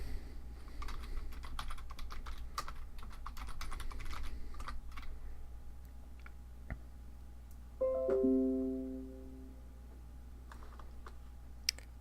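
Rapid, irregular clicking of keys on a computer keyboard while a command is entered in a Fedora Linux terminal, close and fairly quiet, with a short electronic chime near the end.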